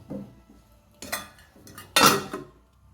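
A metal spoon stirs hot coconut rice in a cooking pot, making three distinct scraping clinks against the pot at roughly one-second intervals, close and fairly quiet.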